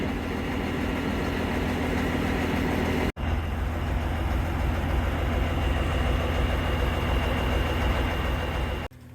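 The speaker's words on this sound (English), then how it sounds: "Pulling the chopper box and unloading it here, we have an International Harvester Hydro 70 tractor." The engine of an International Harvester Hydro 70 tractor, built between 1973 and 1976, runs steadily nearby as it pulls a chopper box during silage harvesting, a loud continuous low drone with a brief dropout partway through.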